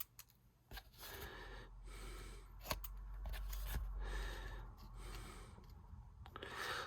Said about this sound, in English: you just get your scissors and then just